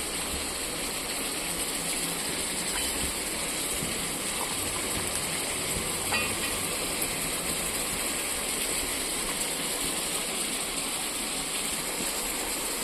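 A kitchen blender grinds turmeric, cashews, almonds and garam masala, giving a continuous loud whirring drone that stays steady for the whole stretch with no pauses and no talk.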